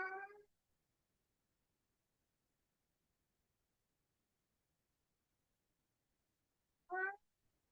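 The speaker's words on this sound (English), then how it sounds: "my cat, he is here again." A male cat meows twice, once at the start and once near the end, each call short and clear against near silence in an indoor room.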